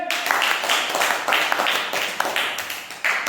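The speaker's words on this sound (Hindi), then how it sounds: "चलिए सब ताली बजाइए।" A group of schoolchildren claps together in a classroom in Nawada, Bihar, India, a sustained patter of quick, uneven hand claps filling the space close by, with faint voices mixed in.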